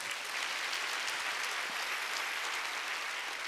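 Church congregation applauding during a Wednesday worship service, a steady dense wash of clapping hands sustained at even loudness from start to finish, no voices standing out.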